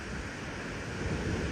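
Surf washing onto an empty beach in Wollongong, a steady broad roar of breaking waves with wind buffeting the microphone, continuous and near.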